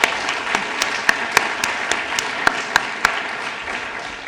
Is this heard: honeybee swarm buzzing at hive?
no